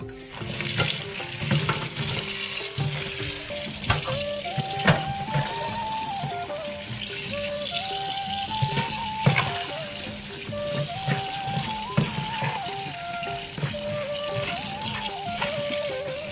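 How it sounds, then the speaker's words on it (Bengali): Ginger, garlic and onion rinsed under a running kitchen tap, a steady wash of water noise with faint handling, partly masked by background music throughout. "এটা আদা রসুন পেঁয়াজ ধুয়ে নিই।"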